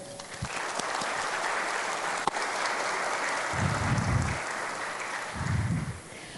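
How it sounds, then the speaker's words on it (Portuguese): Audience applause in a parliamentary session in Brazil, continuous clapping holding steady for several seconds with a few low thumps of handling noise mixed in. "merece nosso reconhecimento em aplauso"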